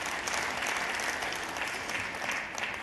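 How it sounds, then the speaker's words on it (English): Sustained applause from a conference audience at a Microsoft TechEd Europe 2013 session, dense and steady throughout with no talking. "And I love that I get applause for that"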